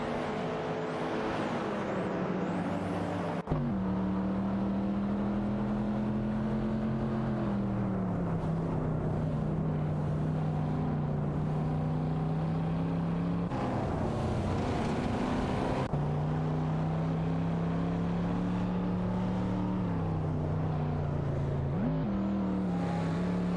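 Racing car engines in a racing video game, including a GTI Yellowbird and a De Tomaso Pantera, drone steadily at sustained high revs, with pitch dips at gear shifts and brief passing roars, loud and continuous with no talk.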